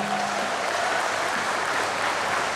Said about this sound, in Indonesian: tepuk tangan untuk Pak Sekda.